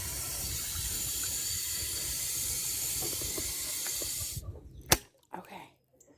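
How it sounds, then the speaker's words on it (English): Water pouring from a tap into a bucket during morning farm chores, a steady close rushing fill for about four seconds before it shuts off, followed by a few knocks and handling sounds. "Let's get a little water in here."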